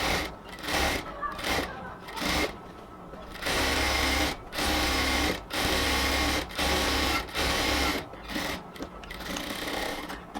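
Sewing machine stitching a luxury cotton ladies' pant, running in repeated loud bursts of rapid mechanical whirring separated by short pauses, with someone speaking between and over the runs.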